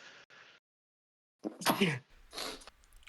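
A single sharp sneeze, close and fairly loud, with faint murmuring before and a soft exhale after.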